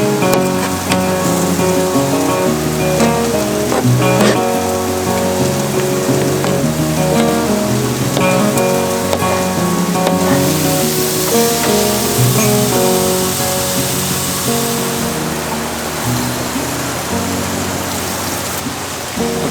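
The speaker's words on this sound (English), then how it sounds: "While those mushrooms start to saute" Mushrooms sautéing in a pan, a steady loud sizzle and crackle that runs without a break, with no talking.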